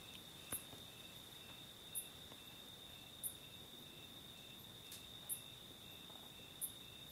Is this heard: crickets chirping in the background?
yes